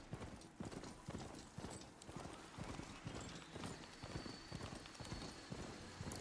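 Horse hooves clip-clopping in a steady trotting rhythm in the video game Horizon Forbidden West, evenly paced throughout and very quiet overall, with a faint whinny.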